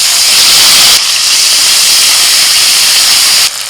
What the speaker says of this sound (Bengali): তেলের মধ্যে ফোড়নে দিচ্ছি একটা শুকনো লঙ্কা একটু কালো জিরে আর কয়েকটা দিয়ে দিচ্ছি কাঁচা লঙ্কা বেটে নেওয়া মশলাটা দিয়ে দিচ্ছি